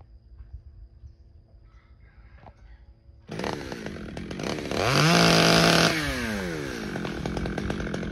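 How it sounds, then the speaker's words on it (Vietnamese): A small chainsaw roars to life and revs loudly cutting a tree branch, its engine whining up and down, close by and steady with a brief louder burst. "Mình cũng sắm cho mình một cái máy cưa nhỏ để mình đi cưa cả nhà."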